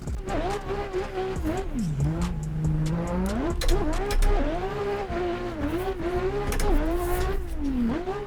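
BMW E36 race car lapping a track, its engine revving up and down continuously through gear changes and corners, loud and close from onboard, with faint tyre squeal.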